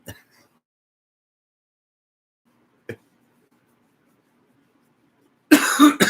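A short cough at the start, another brief one midway through near silence, then a loud, harsh burst of coughing at the end.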